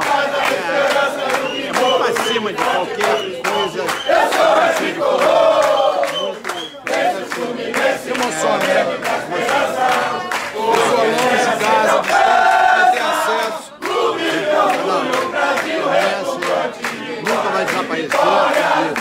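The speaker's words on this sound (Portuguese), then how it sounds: "E a torcida continua. Galera toda aqui cantando." Crowd of Fluminense football fans at a fan event in Maceió singing and chanting together, loud and continuous with rhythmic surges and one short break, voices filling the whole stretch.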